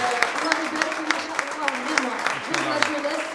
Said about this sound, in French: Franchement, je demande des applaudissements,